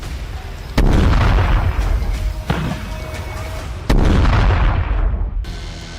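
Fagot anti-tank missile strikes in the Russia-Ukraine war: two heavy, close blasts a few seconds apart, each a sharp boom followed by a roaring, rumbling tail, with a smaller thud between them.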